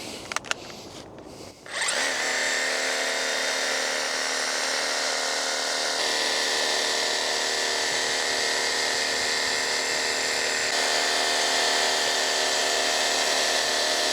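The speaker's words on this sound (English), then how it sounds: "Turn it on there, we'll keep it in its highest blade speed for trimming." An ECHO hedge trimmer starts after a brief pause and then runs steadily at its highest blade speed, cutting a large conifer hedge with a loud, continuous high-pitched buzz close by.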